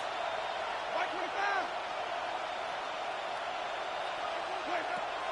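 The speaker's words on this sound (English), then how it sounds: "This crowd, they're trying to force a false start. What noise before 3rd and inches." A roaring football stadium crowd making noise before a 3rd-and-inches snap, a broad, sustained wash of sound with a few swells and whoops rising out of it.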